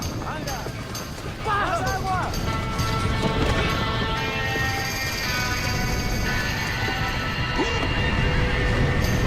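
Horses whinny several times in the video game Red Dead Redemption over a busy rumbling background, with hooves clopping and a steady mechanical noise throughout.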